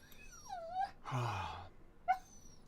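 A female dog whimpers in drawn-out, wavering whines, a long falling whine followed by a moaning wail and a short final yelp, close and fairly quiet with no talk.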